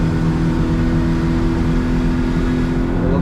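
A Yamaha F70 outboard engine on a 16ft Arima boat runs loud and steady at high revs, holding a constant droning roar out on the water, with no talking.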